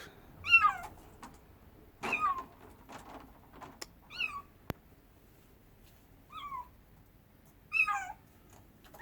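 A kitten gives a string of high, thin meows, about six separate cries spaced a second or two apart, fairly close and standing alone against a quiet background.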